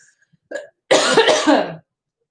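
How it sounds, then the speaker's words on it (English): A person clears their throat once with a short, rough rasp, preceded by a faint brief vocal sound, close to the microphone with silence after. "Let me clear my throat."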